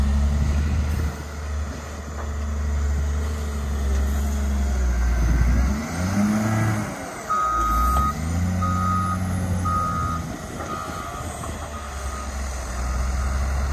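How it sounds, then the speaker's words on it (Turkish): Heavy trucks rumble loudly close by on a farm field as they dump soil, with a truck's engine revving and a series of evenly spaced reversing beeps sounding over the continuous low drone. "Kamyonlarla toprağa döküyorlar."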